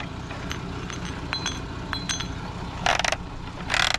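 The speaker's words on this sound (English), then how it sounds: "Let's see if the ratcheting mechanism works." A toy's ratcheting mechanism being worked, found among household trash, giving sparse small clicks and then two dense bursts of rapid ratchet clatter, close up, with no talking.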